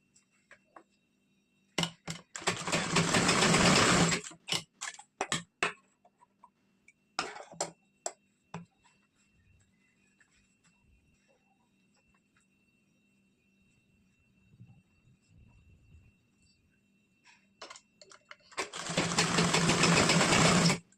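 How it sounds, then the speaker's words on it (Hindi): Sewing machine stitching both side seams of a princess-cut blouse, in two loud sustained runs at the start and end, with scattered clicks and handling taps of fabric between them. "इसी तरह से दोनों साइड की हमें सिलाई करनी है"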